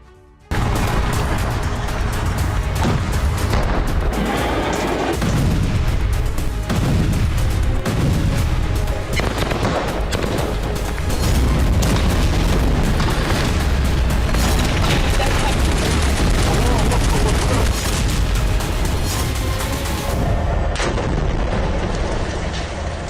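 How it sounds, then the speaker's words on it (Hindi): Repeated heavy booms and bursts of gunfire crackle over a dense, loud din during an Israeli army clash in Tulkarm, sustained throughout with a sharp cut near the end. "इजरायली सेना ने बरसाई गोलियां"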